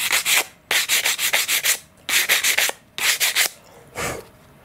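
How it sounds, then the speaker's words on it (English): 220-grit sandpaper rubs back and forth on an RC glider part in quick bursts of short strokes, grouped with brief pauses between, close and crisp. "Sanding with some 220 grit sandpaper"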